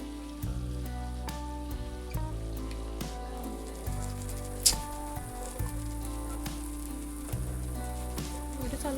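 Spices, including turmeric and crushed peanut, fry in hot oil for a black-masala capsicum dish, giving a steady, close sizzle with a few crackles over a droning tonal background.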